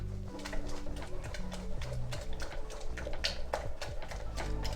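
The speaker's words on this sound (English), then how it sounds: "that's the sound of fantastic risotto" A thick, wet risotto with cold butter is stirred in a pan, giving soft repeated squelching and gentle clicks of a spoon, quiet and close.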